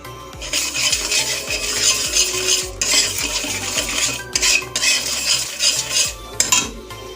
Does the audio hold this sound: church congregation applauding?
no